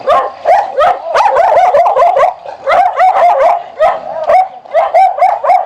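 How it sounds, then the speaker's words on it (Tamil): A dog barks loudly and close by in a pear garden in Kodaikanal, with rapid repeated barks and yips in quick bursts and short pauses between them, and almost no other sound. "நாய்"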